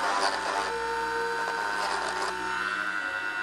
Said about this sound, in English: My weapon of choice is my Dremel stylus with a really small grinding bit in it.